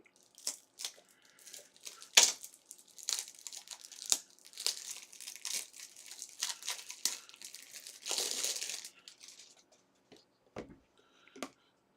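Cases of 2025 Topps Cosmic Chrome trading cards cut open: a long run of close, quiet crinkling and tearing of plastic wrap, with scattered clicks and a brief louder rip near the end.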